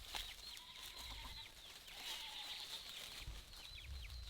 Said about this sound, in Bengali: দেখেন কি সুন্দর মুরগি